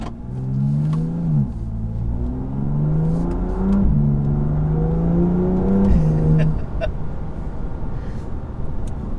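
A BMW M2 Competition engine accelerating in sport mode, a loud rising howl that climbs through several gear changes with brief dips between pulls, heard from inside the car.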